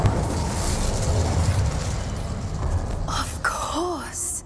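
Spells cast in Hogwarts Legacy, ice, blasting and fire charms, produce a loud rumbling burst of magical energy followed by whooshing, swooping tones and a bright shimmering flare, with game voices mixed in.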